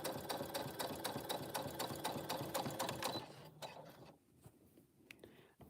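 A sewing machine stitches a bag in a steady fast run of needle clatter, then slows and stops into quiet with a few light clicks.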